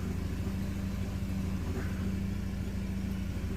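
A Mercedes W203 C-Class with a fault engaging gears idles with its automatic gearbox in drive, a steady close low engine rumble and hum, with no voices.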